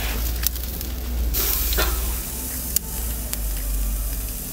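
Steak searing on a grill heated to at least 300 °C gives a steady broadband sizzle and hiss, with a few sharp crackles and pops along the way and no one talking.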